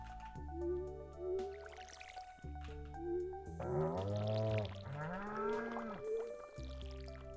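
A watering can pouring over crops in the Stardew Valley game, tonal watery splashes and drip-like sounds in short repeated bursts under a soft music backdrop.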